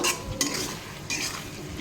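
Ginger, cumin, chilli and turmeric are stir-fried in a pan, with a spatula scraping and knocking in bursts over a low, close sizzle.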